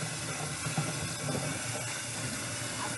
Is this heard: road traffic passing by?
no